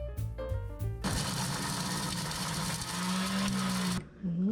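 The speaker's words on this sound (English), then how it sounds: "As I was using the grinder, I realized how strong the spices were." An electric spice grinder whirs loudly through cumin seeds and a cinnamon stick in a home kitchen. A steady, dense motor roar runs about three seconds with a slight pitch shift, preceded by short bursts and ending abruptly.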